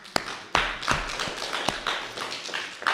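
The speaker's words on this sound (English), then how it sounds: "Give him a round of applause." Scattered claps from a small audience at a class at Bhaktivedanta Manor, a handful of sharp, uneven hand strikes rather than a full ovation.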